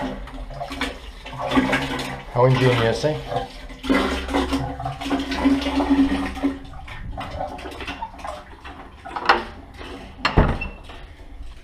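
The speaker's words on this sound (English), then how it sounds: "Look at that, Jabsco sea pump." A Jabsco sea pump marine toilet on an island is worked by hand, giving repeated gurgling, sloshing strokes of water with clunks of the mechanism, close and fairly loud, while someone talks briefly.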